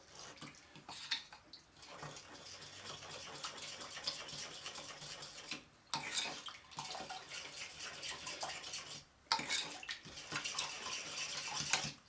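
Honey stirred into a ginger beer mixture, giving a steady wet swirling and sloshing with faint clinks of a utensil against the container, broken by two short pauses, close and fairly quiet.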